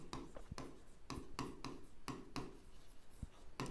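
Pen strokes while writing out algebra equations: quiet, rapid scratching bursts in an uneven rhythm with short pauses between them, heard close up.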